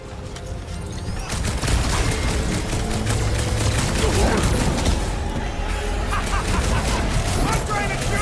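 Rapid bursts of gunfire crackle through a Guardians of the Galaxy video game battle, dense and loud with overlapping shots and impacts, while voices talk over the action.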